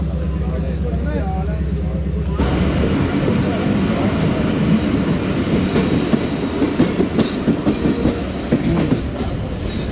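Khyber Mail passenger train diverting onto the loop line at Kot Radha Kishan station, a steady rolling rumble with rhythmic wheel clatter over points, under intermittent talk nearby.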